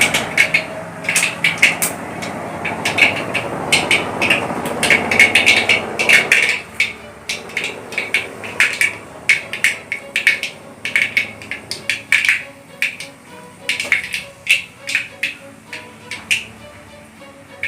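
Mustard seeds crackle and pop in hot coconut oil while tempering for onion sambar, a sizzling wash giving way to dense, irregular sharp pops scattered throughout, close and loud.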